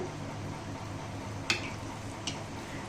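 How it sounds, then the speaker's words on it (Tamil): Murukku fries in oil in a small kadai, giving a faint, steady low sizzle with a couple of light clicks of a utensil against the pan. "நான் சின்ன கடாயின்றதுனால ஒன்று ஒன்றா பொரிக்கிறேன்"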